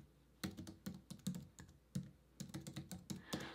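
Keys clatter on a computer keyboard while someone types out a short phrase, coming in quick bursts of clicks separated by brief pauses, close and clear with no talking.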